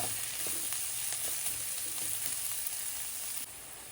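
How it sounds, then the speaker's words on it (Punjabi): Chopped onions, garlic and ginger fry in a pan with a steady, close sizzling hiss and a few faint stirring clicks, with no voices. "ਪਿਆਜ਼ ਲਸਣ ਅਦਰਕ ਦੇ ਭੁੱਜਣ ਤੋਂ ਬਾਅਦ ਜੀ"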